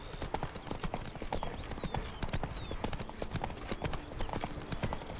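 Roach, a horse in The Witcher video game, trots with steady clip-clopping hooves, a rapid even rhythm running throughout at moderate level over ambient game sound.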